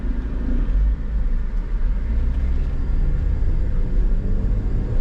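A 2010 Proton Exora 1.6 CPF Premium automatic runs with a steady, low engine rumble that stays even and continuous throughout, with no talking.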